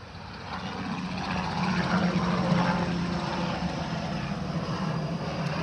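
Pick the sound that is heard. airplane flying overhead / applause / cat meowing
airplane flying overhead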